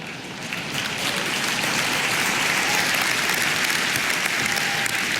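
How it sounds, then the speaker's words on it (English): A large business-forum audience claps in steady, dense applause that builds slightly and holds, broad and close with no talk over it. "the reason you laughed and clapped is because you know it's not"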